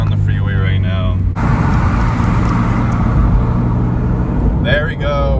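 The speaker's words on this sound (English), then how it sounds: "All right, I'm hopping on the freeway right now." A 2022 Subaru BRZ merging onto a freeway, engine accelerating under steady road and wind noise, heard from inside the cabin, with brief talk at the start and end.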